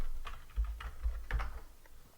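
Fingers typing code on a computer keyboard with quick, uneven clicks and small clusters of keystrokes, close and fairly quiet, with no voices.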